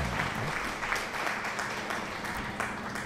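Steady applause from a crowd, used as a sound effect, with dense even clapping that holds at constant volume throughout.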